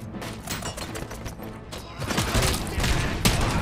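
Rapid bursts of gunfire from the Robocop video game crackle in quick succession, sharp repeated shots that grow louder and denser partway through.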